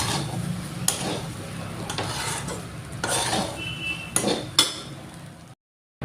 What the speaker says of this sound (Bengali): ভালো করে নাইড়া নিব।